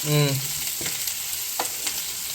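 Onions frying in a pan, cooked down for a dum biryani gravy: a steady bright sizzle runs throughout, with a few soft stirring scrapes and taps. A brief tonal whine sounds near the start.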